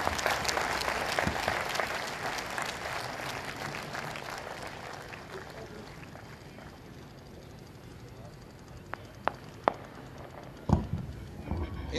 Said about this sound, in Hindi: आप तमाम दोस्तों की भरपूर तालियां इनकी नजर।